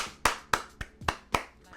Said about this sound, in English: Let's get a round of applause for Khabib.